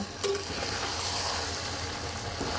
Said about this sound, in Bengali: ওইটা দিয়েই আমি বাঁধাকপিটাকেও কষিয়ে নেব